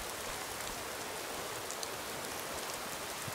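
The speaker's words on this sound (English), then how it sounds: "It is rather hard to shoot in the rain" Steady rain falls in the Skyrim game world, a dense, even hiss of raindrops with faint scattered ticks, continuous and close, with no voices over it.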